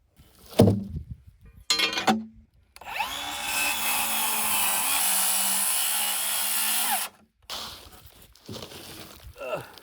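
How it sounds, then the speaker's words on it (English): A Sawzall reciprocating saw cuts through a large wooden framing beam, a loud sustained buzzing whine lasting several seconds, with short bursts and clunks of handling before and after. "Got my Sawzall because I'm not gonna be able to cut through it with my little circular saw"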